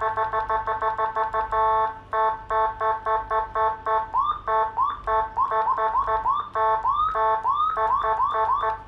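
A Whelen 60-watt siren module driven through a 100-watt speaker sounds a loud electronic siren, first a rapid pulsing yelp and then repeated rising whoops, steady and close with no talking.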